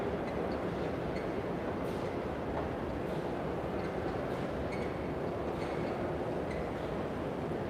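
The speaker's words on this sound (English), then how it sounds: "This is the Times Square station. All right, so yeah, this is where you take the 7 train." Subway train at the Times Square station in Manhattan, New York, where the 7 line stops: a steady, loud rumble of rolling rail cars fills the whole stretch, with faint metallic clicks and brief squeals over it.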